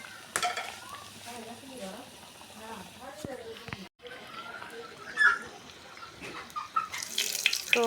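Food frying in a pan while momos are made for an evening snack, a low crackling sizzle with clinks and scrapes, under intermittent talking.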